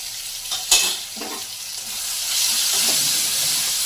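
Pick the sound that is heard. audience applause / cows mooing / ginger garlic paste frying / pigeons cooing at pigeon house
ginger garlic paste frying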